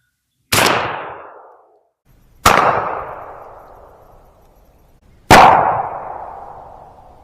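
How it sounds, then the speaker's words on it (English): A Stevens .410 bore shotgun fires Troy game load 2.5-inch shells with #7.5 shot at targets 20 yards away outdoors, three sharp loud reports spaced about two to three seconds apart, each followed by a long decaying echo. "So we're going to shoot them here and see how they do at 20 yards."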